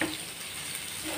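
Salt being stirred into roasted potato filling for raj kachori in a pan, a soft close scraping and faint sizzle over a brief moment with no voices.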